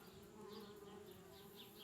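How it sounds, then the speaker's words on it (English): Bees buzzing around a treehouse in the adventure game Anna's Quest, a steady, dense insect drone holding at even loudness throughout, with no talk over it. "Darn bees, trying to move into our treehouse."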